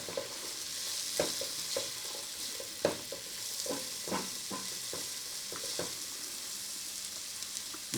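Black-eyed peas with jalapeno peppers frying in bacon grease, Southern Cajun style; a continuous soft sizzle with repeated stirring scrapes and clicks of a utensil in the pan, close and moderately quiet.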